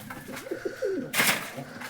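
Pigeons on a pigeon farm coo in soft repeated rolling notes, close by, with a brief louder rustle or flutter partway through.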